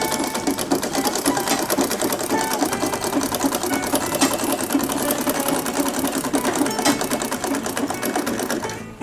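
A sewing machine runs continuously and close, with a steady rapid mechanical clatter as it stitches small bags for pamonha, its belt slipping.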